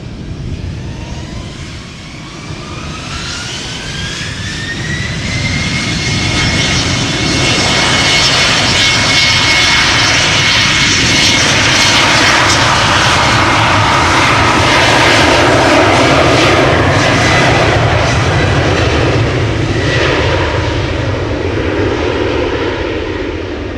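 Jet airliner departing Amsterdam Schiphol Airport, engines spooling up with a rising whine into a loud, close, sustained roar that swells and holds for over twenty seconds.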